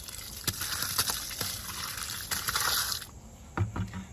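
Liquid compost pours from a bucket into a container, a continuous splashing gush with several sloshing bursts and knocks, close and fairly loud.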